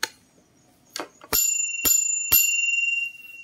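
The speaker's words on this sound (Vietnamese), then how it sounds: "chuông là chuông Bigaton" A Bigaton bicycle bell fixed to a vintage bicycle's handlebar is rung three times in quick succession, each bright metallic ring sustaining and overlapping the next, close and clear with no talk.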